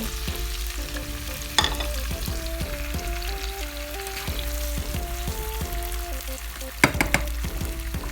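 Chopped tomatoes go into a pan of frying salmon curry, a continuous sizzle with two sharp clinks or splashes as they land, steady and close, while a faint tonal melody plays underneath.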